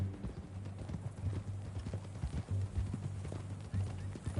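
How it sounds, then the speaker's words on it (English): Horse hooves clip-clop steadily in a Western video game, a continuous rhythmic trot of soft thuds over low ambient rumble, with no talking. "That new horse?"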